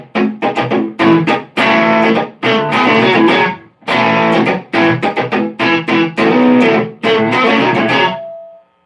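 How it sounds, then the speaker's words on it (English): Electric guitar driven through a distortion pedal on a pedalboard into a Mesa amp, loud saturated chords played in choppy bursts with short gaps, ending on a sustained note. "Next is the distortion pedal"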